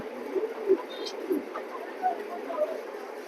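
A female racing pigeon gives soft, low coos at intervals, close by, with people talking over it.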